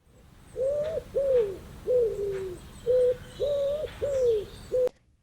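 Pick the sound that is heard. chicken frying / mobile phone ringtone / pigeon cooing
pigeon cooing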